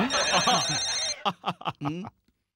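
A telephone rings with steady bright electronic tones for about a second, then a voice speaks briefly.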